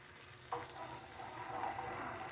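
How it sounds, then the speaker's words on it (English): Salt being stirred into a pot of water for spaghetti, a soft scraping swirl with a faint clink near the start, quiet and close, with no talk. "I just dump in some salt. And I'll stir that in."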